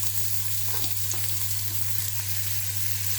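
Finely chopped onion sizzles and crackles steadily in hot oil, with a constant low hum underneath.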